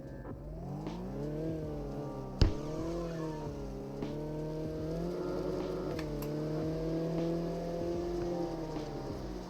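Drift car engine in the BMX Streets video game, droning and revving steadily with rising and falling pitch over a continuous hum, plus one sharp knock early on.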